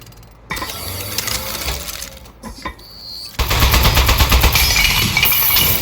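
Automatic turret gunfire in the video game Aperture Desk Job, a loud rapid rattling burst that swells after a short lead-in of scattered clicks and mechanical noises.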